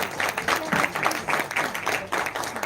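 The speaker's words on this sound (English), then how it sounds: "can we have a huge round of applause?" A stage audience at a film trailer launch applauds in a steady, dense wash of clapping that fills the whole stretch, with a voice faintly mixed in.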